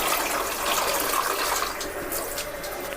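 Water being poured into a cooking pot of drumstick curry makes a steady, fairly loud splashing rush that runs unbroken for the whole stretch.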